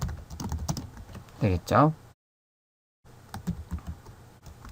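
Numbers typed on a computer keyboard as input to a Java program, a run of quick close key clicks between stretches of someone talking, with a short silent gap.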